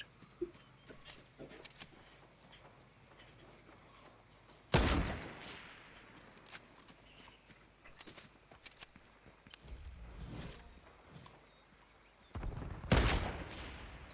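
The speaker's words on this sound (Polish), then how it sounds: "za późno strzela ta snajpa" Sniper rifle gunfire in the Fortnite video game: two loud, sharp broadband shots about eight seconds apart, over a background of fainter clicks and game noise.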